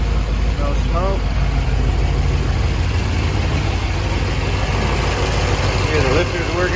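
A 1965 Chevrolet Corvette engine idles close by, a steady, even rumble that runs unbroken from start to finish, with faint voices briefly heard underneath.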